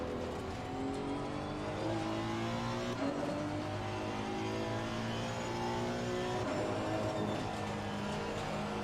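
A Honda NSX GT3 race car engine in a racing video game at the Nürburgring, loud and continuous, its revs climbing and dropping through repeated gear changes with no pauses.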